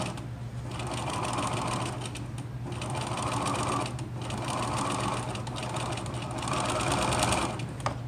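A sewing machine top-stitches close to a seam on a fabric face mask, running in four steady bursts of rapid mechanical stitching separated by short pauses, close and clear with a constant motor hum underneath.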